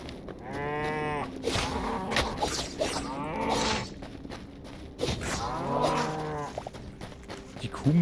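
A zombie cow in the video game Hytale gives two drawn-out, low moos, close and clear, separated by a short gap, with faint game ambience in between.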